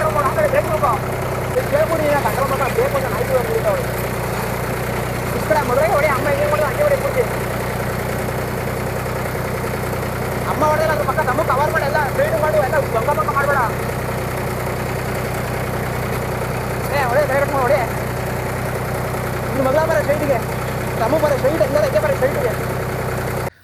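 A tractor engine idles steadily throughout with a low constant rumble, while voices talk intermittently over it.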